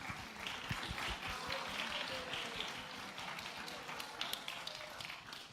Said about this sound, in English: give you all a massive round of applause